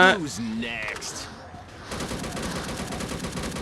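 Rapid bursts of gunfire in the mobile shooter game Unkilled crackle steadily for most of the clip, following a short stretch of voice at the start.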